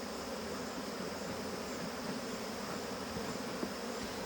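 Honey bees around a beehive, a faint, even, continuous swarm buzz throughout with no talk.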